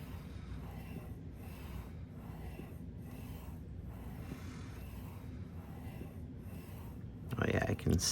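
A plane blade, a PM V11 iron, rocked onto its primary bevel and pushed forward over a Nano Hone or Venev sharpening stone, giving a steady gritty rubbing scrape that runs continuously, with a louder burst of handling at the end.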